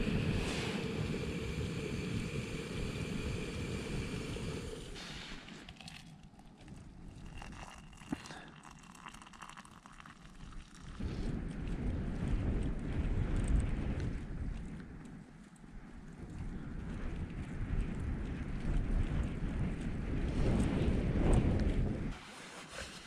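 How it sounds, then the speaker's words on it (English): Strong wind gusting and buffeting a tent during solo winter wild camping in the Lake District, a continuous roar that swells and eases in waves, surging loudest toward the end. "There's some fairly big gusts coming through."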